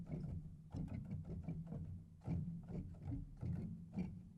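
Soft mechanical hammer thumps from a felt piano sample library with the tones switched off, a run of muffled clunks and knocks in an uneven playing rhythm, low and close with nothing else sounding.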